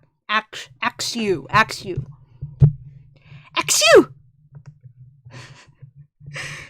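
A single sharp sneeze bursts out amid casual talk, with a low steady hum running underneath.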